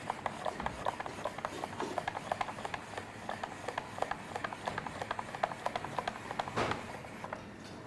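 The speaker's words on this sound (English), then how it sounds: "We're going to use some fresh truffle to grate it over." Fresh truffle grated over a potato spaghetti dish: a steady run of soft, rasping scrapes repeating close by, quiet and continuous with no talk.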